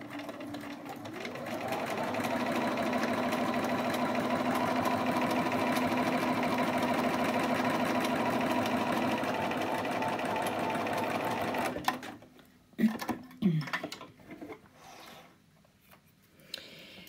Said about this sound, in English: you sew a seam on the top of it, and I chose to do creative stitching here